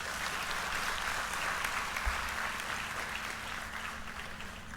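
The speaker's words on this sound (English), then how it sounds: "I request a round of applause for the chief guest" An audience at a university convocation applauds the chief guest with steady, dense clapping that holds at an even level for the whole stretch, the sound of a large hall full of hands.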